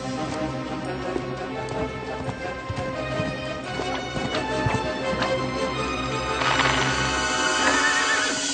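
A cartoon horse ridden by a lonesome cowboy neighs loudly among galloping hoof clatter and busy background music, with a shrill whinny standing out near the end.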